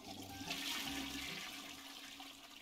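A household toilet flushes nearby, a rushing hiss of water that surges early on and then gradually tapers off as the bowl drains and refills, with no voices heard.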